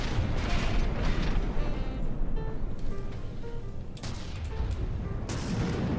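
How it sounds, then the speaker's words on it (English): Mortars firing in the video game From the Depths, a dense run of booming shots and blasts over rumbling mechanical noise, loud and steady with little talk. "Most of our mortars do miss"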